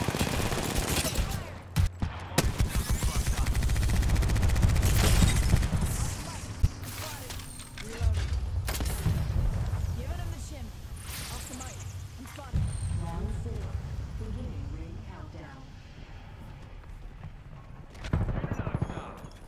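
Gunfire in the Apex Legends video game, bursts of rapid shots and sharp cracks amid scattered thuds, loud at first, then fainter and more sporadic, with a final short volley near the end.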